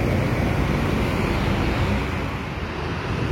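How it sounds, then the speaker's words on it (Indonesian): A bus speeds past on a toll road near a toll gate, a loud, steady broadband rush of engine and tyre noise with wind buffeting that holds for the whole stretch. "Bus ini ternyata kenceng juga ya."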